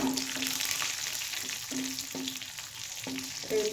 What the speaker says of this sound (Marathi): चांगलं तळून द्यायचं मिरच्या आता बघू शकता छान असं तळले